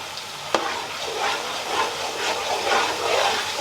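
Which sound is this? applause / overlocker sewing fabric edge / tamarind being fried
tamarind being fried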